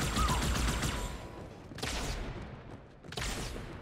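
Gunfire rattles through a Halo 2 battle in bursts, with a busy opening stretch followed by two distinct loud volleys spaced about a second apart.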